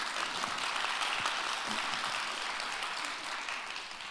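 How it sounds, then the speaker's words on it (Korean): Audience applause at a financial conference session, a steady dense wash of clapping that holds evenly for about four seconds before tapering slightly, moderately distant and filling the room. "박수 한번 주세요."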